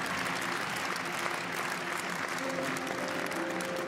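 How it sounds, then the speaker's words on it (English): A large crowd at the 2013 Swiss Open badminton final applauds the new champion in a dense, steady roar of clapping that fills the whole moment, with faint tonal sounds surfacing near the end. "Crowd giving him a huge round of applause"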